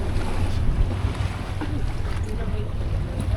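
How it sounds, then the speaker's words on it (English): Strong wind of about 23 to 25 knots roars steadily over a sailboat in Pylos harbour in the Peloponnese, with a low rumble, mic buffeting and faint splashing from the waves. "wow, has this wind come up 23, 25 knots?"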